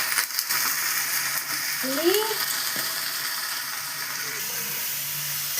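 Diced potatoes and small pieces of capsicum hit a hot pan and fry with a steady, close sizzle, joined by a brief scrape or clatter near the start.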